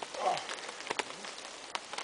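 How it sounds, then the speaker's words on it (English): Rain falls steadily on a woodland campsite on a Sunday morning, a soft broadband patter with a few sharper, nearer drops striking now and then, with no talk. "8:30 on a Sunday morning, and it's actually raining."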